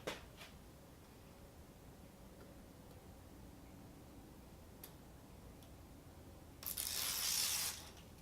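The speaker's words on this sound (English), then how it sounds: "just peel off the 3M adhesive" 3M adhesive tape backing being peeled from a Honda Civic window visor, a soft close tick or two and then a single loud, hissing tear lasting about a second over faint background noise.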